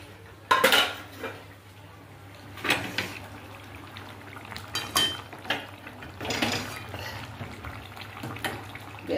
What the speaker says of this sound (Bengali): এবার মাছটার ঝোলটা ঢেলে নিলাম।